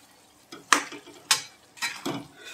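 A spoon stirs sarson ka saag, a Punjabi mustard greens dish, in a pan: four distinct scraping strokes over about two seconds, close and moderately quiet, with no talking.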